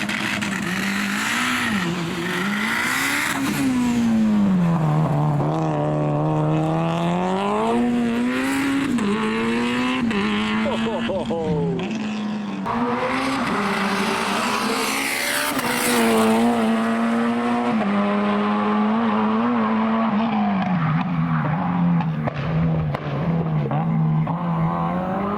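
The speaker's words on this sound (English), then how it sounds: "Here we go, first car, Evo 10." A Mitsubishi Evo 10 tarmac rally car roars past on a Perth rally stage, engine climbing and falling through gear changes, loud and close, with a sustained high-revving note and no talk.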